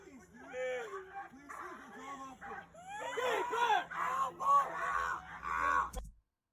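A police K-9 dog whimpers and yelps in a rapid series of high, wavering cries and yips that rise in intensity and then stop abruptly, heard close with people talking nearby.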